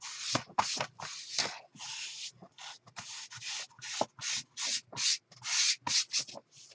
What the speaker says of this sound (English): let's clean off the embossing powder on the desk